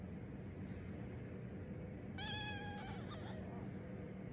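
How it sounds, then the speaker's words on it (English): An 11-week-old Ragdoll kitten gives one drawn-out, wavering meow followed by a short squeak, fairly close against a steady background hiss, with no talking. "Is that a talking kitty?"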